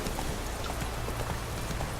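Roach, the horse in The Witcher 3: Wild Hunt, gallops with a steady run of hoofbeats over a dense, constant game soundscape, with no talk.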